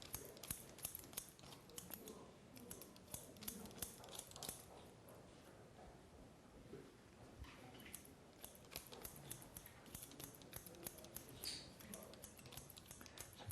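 Salon scissors snip hair during a haircut at a hairdressing academy, with rapid, crisp clicks in quick irregular bursts, close and steady throughout and with no talk.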